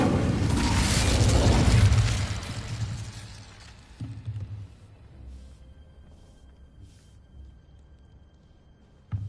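Casting the Incendio fire spell in Hogwarts Legacy, a loud whooshing roar of flame that swells for about two seconds, then fades into a low rumble with a small crackle and a final pop.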